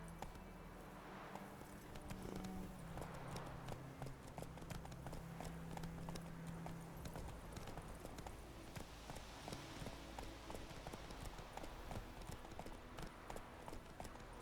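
Roach the horse gallops in The Witcher 3, hooves clip-clopping in a fast, steady rhythm that runs throughout at moderate distance, with game ambience and music behind.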